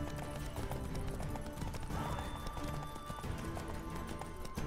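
Horses gallop in The Witcher 3, a steady rolling clatter of hooves under continuous game ambience and music, with no talking.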